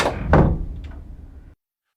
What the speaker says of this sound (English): he immediately shuts the door.